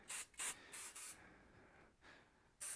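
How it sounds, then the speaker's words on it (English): Hair spray hisses from a can onto a man's fringe during a classic men's haircut: four short, close bursts in quick succession, a pause, then one more burst. "Just push the fringe down, spray it in, push it in, spray it in."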